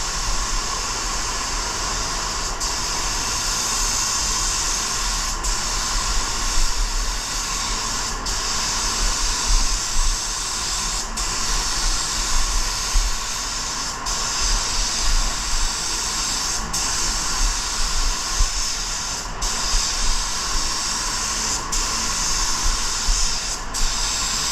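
A spray gun lays down a silver base coat for a candy paint job: a steady, close hiss of atomised paint runs throughout, broken by short regular pauses every few seconds as each pass ends. No one speaks.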